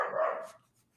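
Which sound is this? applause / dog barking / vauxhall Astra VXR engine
dog barking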